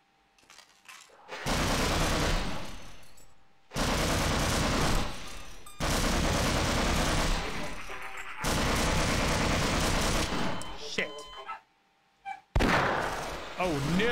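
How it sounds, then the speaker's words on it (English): A wall-mounted gun turret in Half-Life fires long, loud, sustained automatic bursts, broken by short silent gaps between volleys. "there's a gun in the wall"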